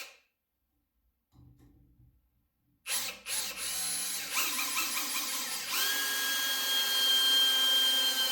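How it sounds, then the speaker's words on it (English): Parkside Performance 20V cordless drill (PABSP 20-Li) drives a screw into wood, a close, steady motor whir with clicking and rising strain that runs on after a brief start. "We've got some screws and it's time for testing to see how it goes into the wood."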